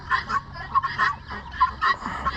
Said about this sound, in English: And there are Sebastopol geese.